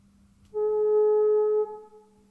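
One theremin note starts abruptly, holds a steady unwavering pitch for about a second, then cuts off suddenly, a clean pure tone with no other sounds.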